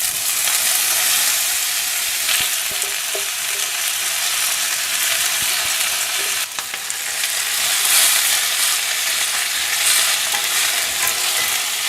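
Urad dal, red chillies and curry leaves fry in hot oil for curry leaf thuvaiyal, giving a steady, fairly loud crackling sizzle with a few utensil clinks and stirring scrapes, without speech.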